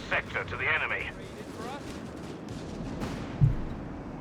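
Mortar fire in Company of Heroes 3, a World War II strategy game with Italian and German troops, lands as a sharp low thump amid rumbling battle noise, under steady commentary.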